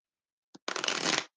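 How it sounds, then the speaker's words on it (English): Tarot cards being shuffled by hand indoors, a short riffle tap followed by a dense, close, continuous burst of card shuffling lasting about half a second. "Feels weird like holding this book underneath my arm and shuffling cards at the same time"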